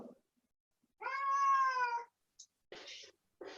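A house cat meows once at an indoor television, a clear drawn-out call up close, followed by short bursts of nearby talking.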